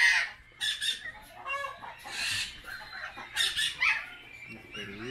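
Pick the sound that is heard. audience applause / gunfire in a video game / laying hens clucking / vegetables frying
laying hens clucking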